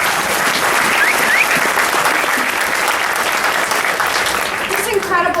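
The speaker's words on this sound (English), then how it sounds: "give yourselves a round of applause" An audience at an Alzheimer's benefit theater show claps loudly and steadily throughout, a dense continuous wash of applause with a faint whistle near the end.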